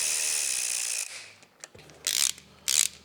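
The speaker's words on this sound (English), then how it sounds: "with the ratchet" A ratchet drives bolts on a 2020 Honda CRF250L during an oil change: a sustained run of rapid clicking, then a pause and two short bursts of ratcheting, close and clear.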